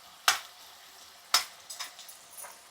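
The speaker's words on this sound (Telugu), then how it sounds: "బంగాళదుంపలు కూడా మనకి దోరగా వేగాలి." Potatoes being fried in a pan for poha, with two sharp sizzling bursts followed by a few softer crackles and stirring scrapes, close and fairly quiet with no talk.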